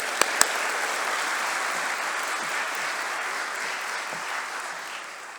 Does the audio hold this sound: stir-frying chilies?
no